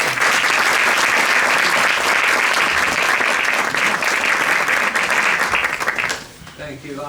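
Sustained, loud applause from an audience at the opening ceremony of the first Nordic Palestinian Film Festival at Zita, dense clapping filling the hall before fading near the end.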